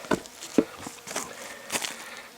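Honeybees hum faintly while a hive body full of bees is set onto a bottom board, with several sharp wooden knocks and bumps standing out over the soft, uneven buzzing.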